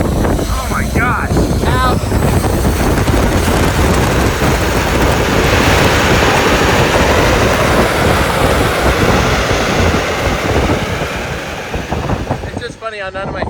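A fighter jet engine mounted in a monster truck roars loudly and steadily as a dense, continuous blast, easing off slightly near the end.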